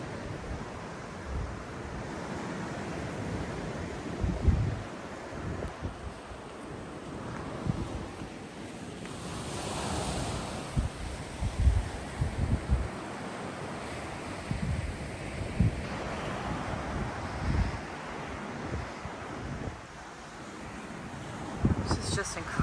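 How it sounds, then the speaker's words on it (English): Ocean waves wash and break in the distance below a beachfront condo in Sosua, Dominican Republic, amid gusty wind noise on the microphone, with a person talking intermittently over the surf. "the waves sound amazing"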